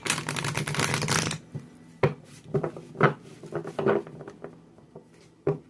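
Oracle cards being shuffled by hand, a dense papery riffle for about a second and a half, then several separate soft taps and slaps of cards being cut and set down, fairly close and quiet with no talking.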